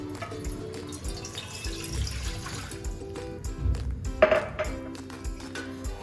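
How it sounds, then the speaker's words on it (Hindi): A cup of water goes into a frying pan on a gas stove, giving a short splashing, dripping pour with faint metallic pings from the pan. "पहले एक फ्राई पैन लेना है, गैस स्टार्ट करेंगे, 1 कप पानी"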